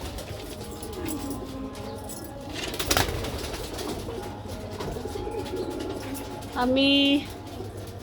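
Pigeons in their pigeon house coo softly near a person who speaks, with a light flutter partway through and a clearer, louder coo near the end.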